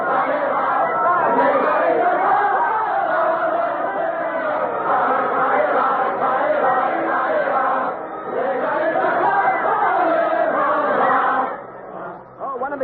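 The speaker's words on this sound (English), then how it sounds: "They're singing about hanging all aristocrats from lanterns." A large Paris crowd sings the French revolutionary song Ça Ira in unison during the storming of the Bastille, a loud, continuous massed chorus of voices filling the whole stretch.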